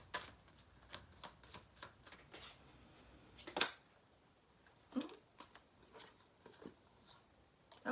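Tarot cards shuffled up close in a quiet room: a run of quick papery riffles and soft slaps, a brief pause, then a louder cluster of shuffles with no talking.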